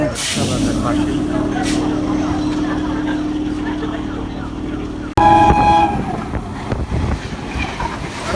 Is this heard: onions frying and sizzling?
no